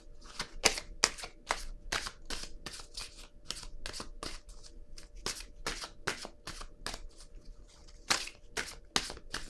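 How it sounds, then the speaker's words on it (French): Tarot cards are shuffled in quick, crisp riffling bursts, a close rapid run of papery flicks with brief pauses between them, and no voice. "Je vais piger une carte pour vous."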